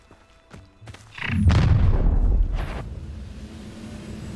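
In the video game Hogwarts Legacy, a Confringo blasting spell goes off with a heavy booming explosion, preceded by a brief whoosh and followed by a lingering low rumble that fades slowly.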